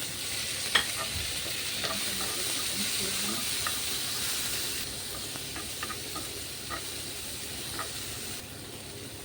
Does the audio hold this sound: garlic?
yes